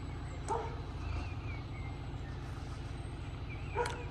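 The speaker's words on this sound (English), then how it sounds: "Dog's just having a bark at the tractor who's sorting his sheep out." A dog barks at a tractor working sheep on a rural property, a couple of sharp barks near the start and end over a steady low engine rumble in the distance.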